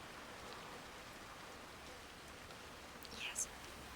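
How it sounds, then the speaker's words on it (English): Heavy rain falls steadily as a broad, even hiss throughout, with a couple of brief brighter sounds near the end standing out faintly above the downpour. "It's raining really hard now."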